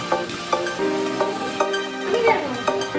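Ginger garlic paste frying in a pan for chicken biryani, a soft steady sizzle with regular stirring scrapes and a few tonal squeaks on top.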